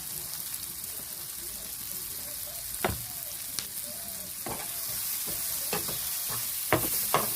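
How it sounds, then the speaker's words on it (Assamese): Chilli chicken sizzles in a hot pan with a steady frying hiss, punctuated by scattered clacks and scrapes of a utensil stirring the pieces. "আমাৰ ভাজি হৈ গৈছে।"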